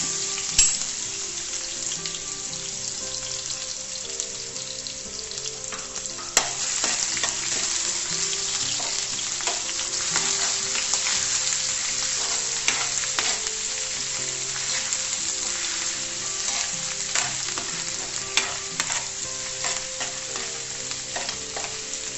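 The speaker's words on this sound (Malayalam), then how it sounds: "ഇതിലേക്ക് അത് ചൂടായിട്ട് വരുമ്പോഴത്തേക്ക് ഇതിലേക്ക് നമുക്ക് അരിഞ്ഞു വെച്ചിരിക്കുന്ന ഇഞ്ചിയും വെളുത്തുള്ളിയും കൂടെ ഇടാം." Chopped ginger and garlic sizzling in hot oil for a Kerala-style banana stem pickle, a steady loud crackling fry throughout with occasional sharper pops and stirring scrapes.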